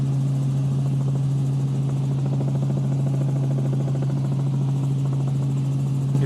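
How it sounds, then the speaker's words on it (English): A helicopter flies over hurricane-damaged areas after Hurricane Helene, its steady low rotor and engine drone holding loud and unbroken throughout with no voices. "we are watching a helicopter fly over some of these damaged and ravaged areas"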